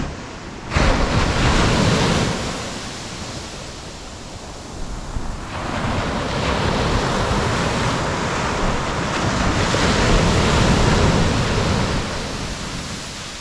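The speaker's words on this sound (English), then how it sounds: "On a big day, the waves just crash in." Ocean waves crash onto a steep sandy beach fed from deep water, a loud roaring wash of surf that surges and recedes in broad swells with wind noise across the microphone, no voices.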